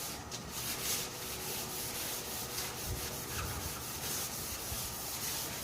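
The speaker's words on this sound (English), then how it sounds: "I actually went over all the primer with 220 wet and dry" Faint, steady rubbing of 220 wet and dry sandpaper over primer on a 1966 Ford F1 truck, a continuous soft scratchy hiss with gentle rhythmic strokes and no voices.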